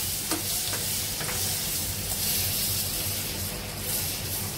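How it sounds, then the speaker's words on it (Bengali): Cut pieces frying in a small frying pan give a dense, continuous sizzle and hiss up close, with a few faint stirring scrapes early on and no voices. "একটু লাল লাল করে ভেজে নিতে হবে"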